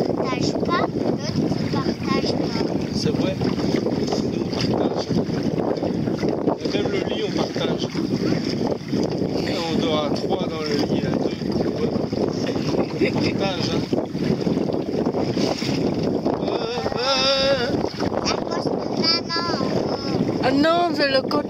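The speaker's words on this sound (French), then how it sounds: "Non, c'est le coup de vent." A gust of wind sweeps over a Pacer 3 sailboat in Carantec's Morlaix Bay, making a loud, continuous rush of wind noise against the microphone with water sounds and people talking underneath.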